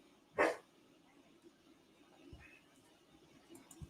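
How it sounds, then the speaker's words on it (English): A dog gives one sharp, loud bark nearby, then a quiet indoor room with faint rustles follows. "Even the dog agrees."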